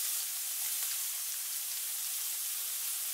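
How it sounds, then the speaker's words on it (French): Ginger and garlic sizzle steadily in a pan over medium heat, a close, continuous hiss of frying with no pauses and no voices. "Dans la même poêle chauffée à feu moyen, je mets l'autre moitié du gingembre et de l'ail."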